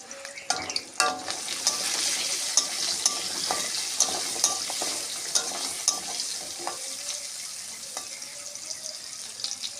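Potatoes with turmeric fry in hot oil in a Bengali kitchen, a continuous sizzle punctuated by repeated scraping and clicking stirs of a spoon against the pan.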